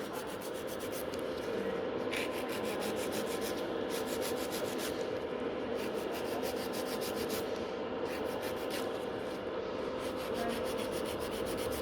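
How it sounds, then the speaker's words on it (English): A nail file rubs back and forth along the side walls of clear gel nails, a steady close rasping that runs without a break for the whole stretch. "I'm filing the side walls."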